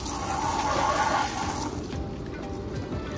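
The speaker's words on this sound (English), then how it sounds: "Let's hose this tank out, get it nice and clean. Hose off this mat too." A hose sprays water over a reptile tank and its mat, a steady hissing rush that fills the clip before easing slightly in the second half.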